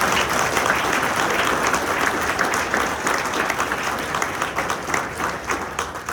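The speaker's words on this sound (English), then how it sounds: "I would like the audience to respond with some applause for all the veterans and the" Audience at a military salute event applauding veterans and their families, sustained crowd clapping with scattered sharp individual claps, steady and fairly loud throughout.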